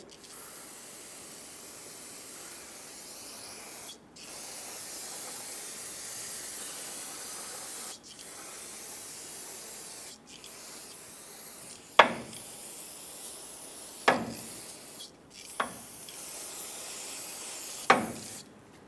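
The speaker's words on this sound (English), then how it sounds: "Rinse it down with brake parts cleaner." Brake parts cleaner is sprayed from an aerosol can onto the wheel hub of a 2003-2009 Dodge Ram 2500, sounding as several long hissing bursts separated by brief pauses, with a few sharp knocks near the end.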